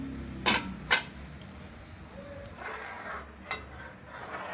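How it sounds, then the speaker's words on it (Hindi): A lid goes onto a karahi of milk set to boil, with two sharp clanks close together and then a lighter knock after a pause, quiet rubbing in between. "अब इसको उबलने के लिए कवर कर देंगे।"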